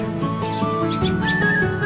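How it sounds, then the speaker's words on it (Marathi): Small birds chirp and tweet in short, repeated calls in village farmland in the morning, over a steady background hum, fairly close and moderately loud. "पक्ष्यांचा चिवचिव असा आवाज ऐकायला लागले"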